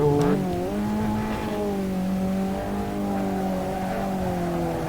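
An Abarth 500 Assetto Corse race car on racing suspension runs steadily as it hits a bump coming back onto the road. The engine drone is loud and close, with a brief shift in pitch near the start.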